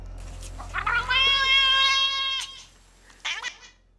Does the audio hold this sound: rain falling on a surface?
no